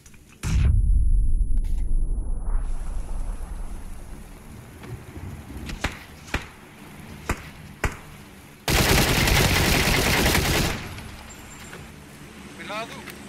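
Gunfire rings out in the battle royale game PUBG: several sharp single shots spaced apart, then a dense sustained burst, mixed with loud in-game wind and vehicle rumble.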